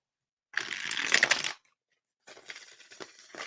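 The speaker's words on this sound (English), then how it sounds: "One more shuffle." Tarot cards are shuffled in two close, crisp bursts: a dense riffling flutter lasting about a second, a short pause, then a lighter, patchier round of shuffling.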